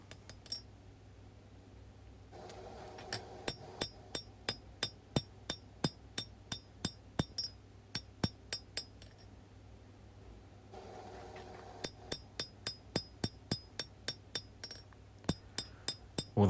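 Hand hammer forging of a long chef's knife blade, sharp ringing metallic strikes in steady rhythmic bursts with short pauses between runs, bright and clanging, with no talk.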